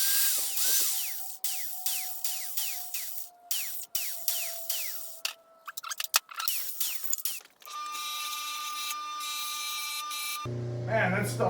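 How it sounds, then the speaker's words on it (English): A wire wheel grinds against a metal oil cooler part for a Type 4 VW engine, coming in repeated short bursts and then a steadier whine, fairly close. "Clean this up on the wire wheel, and then we can start welding."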